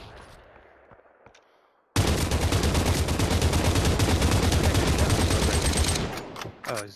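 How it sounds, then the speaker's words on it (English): Dense automatic gunfire in the VR shooter Population: One erupts after a quiet opening with a few faint shots and rattles on loudly for about four seconds before tapering into scattered bursts. "I am getting shot from behind now"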